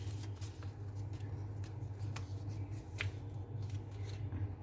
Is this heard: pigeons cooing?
no